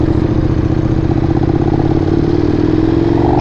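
A loud KTM 1390 R Evo motorcycle engine runs steadily up close, a throbbing rumble that holds constant for the whole stretch.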